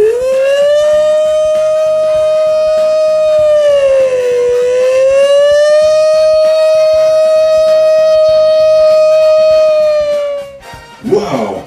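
A voice imitates a wailing civil-defence alarm siren, one loud sustained tone that dips and rises again for about ten seconds, then breaks off into a short breathy sound at the end.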